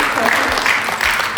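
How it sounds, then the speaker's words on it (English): An audience at an award ceremony claps loudly and continuously in a brief burst of applause, with voices mixed into the noise. "Let's clap for her again in absentia."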